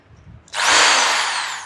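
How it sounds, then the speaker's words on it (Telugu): A power drill from a PM Vishwakarma tool kit starts up after a brief quiet moment and runs with a loud, steady high-pitched whir that eases slightly toward the end. "ప్రెస్ చేసి హ్యామర్లోకి డ్రిల్ చేస్తే హ్యామర్లోకి డ్రిల్ అవుతుంది"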